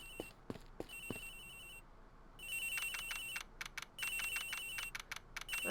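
A telephone rings in the game Ace Attorney Investigations: bursts of trilling electronic rings repeat at a steady pace, faint at first and then louder, alone with no talk.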